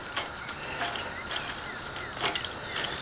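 A ratchet clicks in short bursts while tightening the head bolts on a 2013 Grasshopper diesel mower, close and crisp with brief pauses between strokes, no talking.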